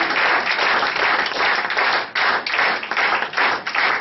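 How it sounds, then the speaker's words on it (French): Steady, loud audience applause after a mentalism stage show, dense clapping sustained throughout with slight surges and dips and no voices over it. "Vous pouvez applaudir maintenant, si vous le désirez"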